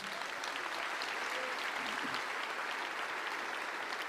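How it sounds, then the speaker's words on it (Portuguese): A church congregation at an evening worship service claps steadily, a thick even wash of applause filling the room throughout. "Vamos aplaudir esse pessoal que está vindo."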